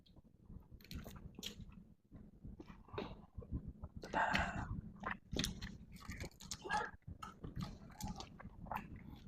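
Buttered shrimp dipped in vinegar is chewed loudly close to a microphone, with wet crunchy bites and squishy mastication coming in irregular bursts.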